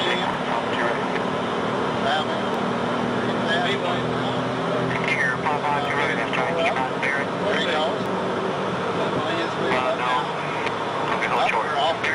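A steady, loud engine roar fills the cabin of an airplane as it takes off down the runway on a 1987 trip to Panama City Beach, with people talking over it.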